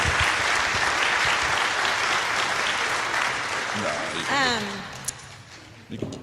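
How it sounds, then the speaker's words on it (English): Big round of applause from the congregation at a church community gathering, loud and sustained at first, then tapering off as a voice speaks over the dying claps. "let's give them a big round of applause."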